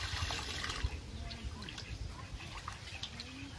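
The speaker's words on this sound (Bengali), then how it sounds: "এবার মাছগুলোকে ভালো করে ধুয়ে নেব।" Cut pieces of hilsa fish are washed in water, making soft, continuous sloshing and splashing that stays faint and close throughout.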